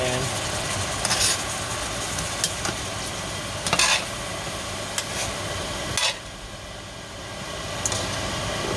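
Lemon Coke chicken wings sizzle steadily in a hot pan while being stirred and scooped, with a constant frying hiss broken by several sharp scraping clanks of a utensil against the pan.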